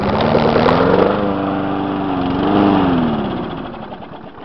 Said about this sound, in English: should start right up. This is a brand new fucking lawnmower.